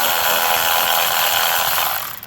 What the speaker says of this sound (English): So you unplug the coil pack, use your 10mm socket,